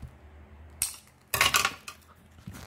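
Material being snipped while decorating a steampunk, Alice in Wonderland style mixed-media photo frame, heard as a few short, sharp cuts and clinks: one quick snip, a louder rustling cut in the middle, then two softer ones, close up in a quiet room.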